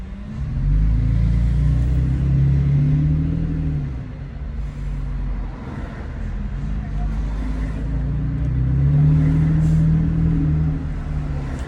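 A 2019 Toyota Tacoma TRD Pro with an MBRP aftermarket exhaust rumbles deeply from the cabin while driving, its low exhaust drone swelling and easing twice as the throttle changes, with a person talking over it.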